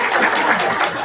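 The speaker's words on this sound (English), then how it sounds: "You guys can clap for yourselves." Audience in a room at an awards event applauds for about a second, a dense steady patter of clapping with no spoken words.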